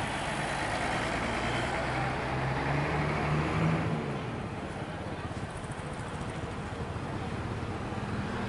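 An M-Trans patas express bus on the Ponorogo–Surabaya route pulls away from Seloaji terminal at full throttle. The engine drone climbs steadily in pitch, then drops as the bus shifts, a loud broad rumble with a voice over it.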